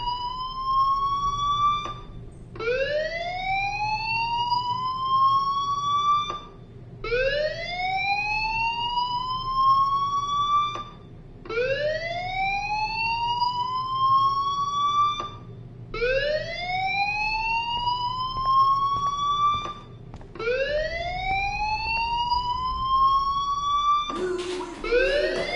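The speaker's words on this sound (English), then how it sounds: "do you hear that fire alarm?" A fire alarm in Life Is Strange wails in repeated rising sweeps, six loud cycles with short gaps between them, ending in a burst of other noise.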